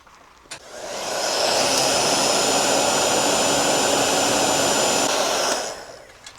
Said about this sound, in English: You should tell them how you use the heat gun on there to make sure that this doesn't melt